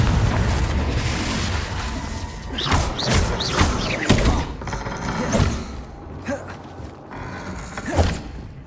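Repeated Confringo spell blasts in the Hogwarts Legacy video game, several booming explosive thuds in quick succession with crackling debris, loud and close, with a voice calling out between them.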